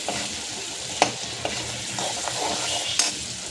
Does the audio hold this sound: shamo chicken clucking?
no